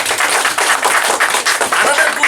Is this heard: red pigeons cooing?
no